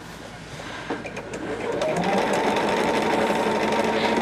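A Bernina 37D sewing machine with a 1/8 and 1/4 inch foot stitches a quilt, starting after a few soft handling clicks and settling into a close, steady, rapid whirring hum; no voices.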